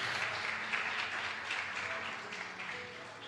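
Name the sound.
church congregation applauding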